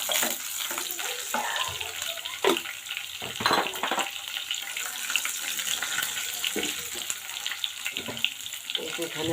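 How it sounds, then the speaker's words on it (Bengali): Cumin seeds hit hot oil in a pan with prawn kofta curry under way, giving a loud hissing sizzle with bursts of spattering and occasional clinks, continuous throughout. "এর মধ্যে আমি জিরা ফোড়ন দেব একটু।"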